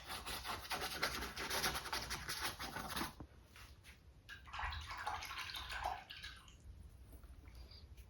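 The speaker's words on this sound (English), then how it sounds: "you can hear me washing my brush out here and there" A paintbrush sloshed and rubbed in a water jar while painting a Halloween haunted house scene: a few seconds of close, busy swishing and dripping, then quieter scattered scrapes and splashes.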